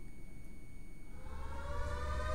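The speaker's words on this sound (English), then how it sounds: "I need a siren sound effect." A steady electronic alarm tone swells in partway through, a faint sustained siren or alarm horn with bright harmonic layers that grow louder toward the end.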